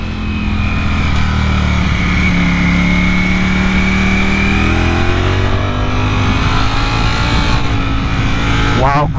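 A Ducati Streetfighter V4 motorcycle's V4 engine revs loud and close on a road ride, pitch climbing and falling with the throttle over steady wind noise, with a sharp rising rev near the end.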